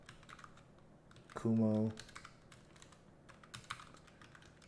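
Computer keyboard typing, a handful of faint, scattered key clicks under a brief spoken word, quiet and close.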